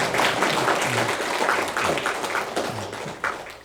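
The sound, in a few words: church congregation applause welcoming guests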